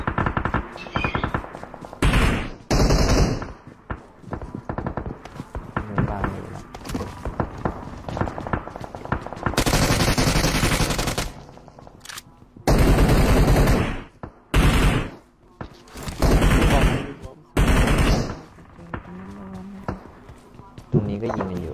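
Gunfire from a shooting video game, with loud bursts of automatic fire and single shots that come and go in clusters, while players talk excitedly over the action.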